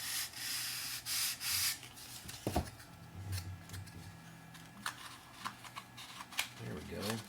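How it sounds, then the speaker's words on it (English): A blade trims and shaves a wooden part of a Junior 100 RC trainer model airplane, giving close, dry rasping and scraping strokes in short bursts, with a person talking quietly between cuts. "I'm gonna just take a trim just to shave a hair off of this"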